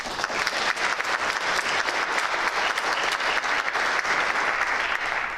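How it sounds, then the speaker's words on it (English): An audience at a National Honor Society induction ceremony in a high school gives a full round of applause, dense, even and sustained clapping from many hands with no talk over it. "So one more round of applause"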